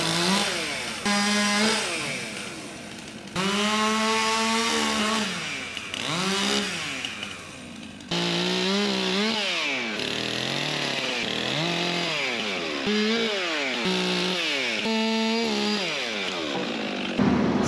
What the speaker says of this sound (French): J'ai coincé la tronçonneuse